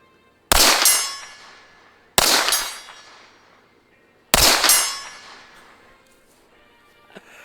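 A Laugo Alien competition pistol fires three separate shots at a steel target 100 yards out, each a loud sharp crack followed by a ringing decay, with a faint metallic ping near the end.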